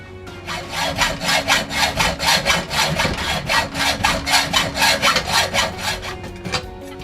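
Hand saw cutting through the steel frame of an old Raleigh Tomahawk bike, a steady run of about twenty rhythmic back-and-forth strokes, close and loud, with no talking.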